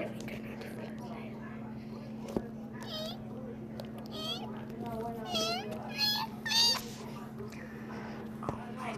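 A cat meows several times, short high calls scattered over a low background hum, with some quiet whispering voices in between.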